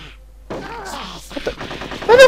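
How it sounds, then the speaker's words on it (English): Gunshots in the video game Conker's Bad Fur Day, a rapid burst of loud shots followed by a sharp final crack, with game voices and effects mixed in. "Then you shoot him."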